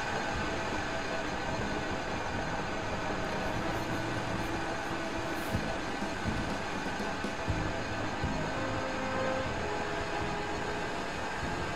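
A train in the video game Sly 4: Thieves in Time rumbles past steadily for several seconds, a dense, continuous rolling clatter with a faint hum, fairly close and without voices.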